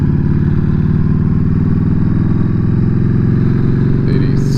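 A 2007 Yamaha V Star 1300 motorcycle riding with about 40,000 miles on it, a loud, close, steady engine drone and exhaust throb that holds even, with a brief clatter near the end.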